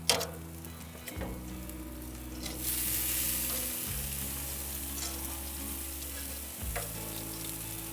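Steaks sizzle on an outdoor grill at dusk, with wieners cooking on the upper rack; a steady frying hiss runs throughout over a low, even hum, with a few faint clicks and no voices.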